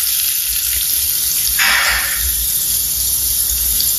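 A pan of hot oil hisses steadily as onions fry, with a sharp burst of sizzling rising about halfway through, then settling back to a constant sputter; no voices.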